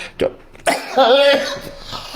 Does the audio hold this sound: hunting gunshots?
no